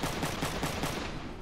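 Rapid gunfire from a mech's machine gun in the turn-based strategy game Front Mission 3, a dense burst of repeated shots holding steady and loud for the whole moment with no talking over it.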